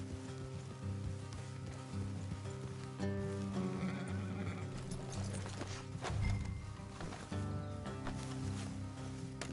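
A horse whinnies in a video game amid a dense layered soundscape of music and ambience, with hoof clops and rain-like hiss in the background.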